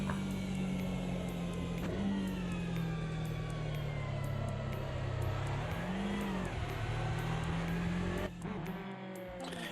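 An Aston Martin Vantage GTE race car in a racing video game holds a steady, loud engine drone, its pitch sweeping down and back up through gear changes with a brief dip near the end, no voices over it.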